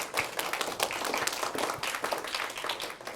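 School audience applauding a representative, a dense patter of many hands clapping steadily for a few seconds at moderate distance.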